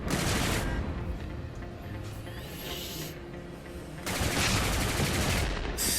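Shotgun blasts in the VR shooter Galactic Rangers, heavy bursts opening and closing the stretch with a busy, noisy game backdrop churning between them.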